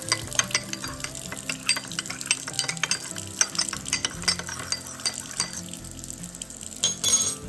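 A cornstarch and water slurry is stirred briskly in a glass with a utensil, giving rapid, close, repeated clinks and scrapes against the glass throughout.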